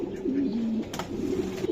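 A pure white racing pigeon cooing close by, a steady low throaty warble lasting the whole moment, with faint background noise and no talking.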